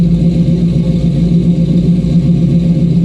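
A 1967 Chevy Camaro's V8 engine runs up close, giving a loud, deep, steady rumble with slight rhythmic throb throughout and no voices.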